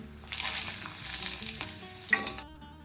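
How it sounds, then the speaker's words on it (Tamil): Appalam (papad) frying in hot oil, with a bright, bubbly sizzle that flares up and crackles for a couple of seconds, heard up close. A sharper pop follows before it cuts off, and no one talks. "நம்ம இந்த பக்கம் இப்போ அப்பளத்தை பொரிச்சு எடுத்துக்கலாம்"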